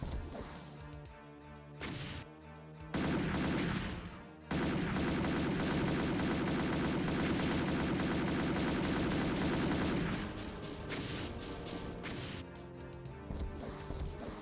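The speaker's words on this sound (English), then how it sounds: "with the chain gun, single tap, we can take full advantage of the enemies that are way over there" Chaingun and rocket launcher fire in Doom's Lost Civilization MAP20, with rapid sustained mechanical gunfire bursts and heavy blasts in a dense, loud barrage that eases off toward the end.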